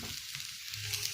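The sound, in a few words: sardine and vegetables frying and being stirred in pan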